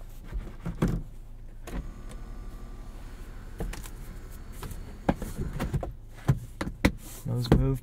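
Power sunroof on a 2022 Honda Civic Sport Touring hatchback whirring open inside the cabin, a faint steady motor hum beneath intermittent clicks, taps and handling noises, close and quiet.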